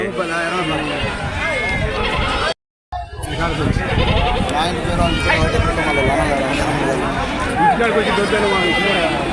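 Large goats bleat repeatedly at the Kunta goat market in Ongole district, amid a busy crowd, with steady chatter and market noise throughout and a brief dropout of sound partway through.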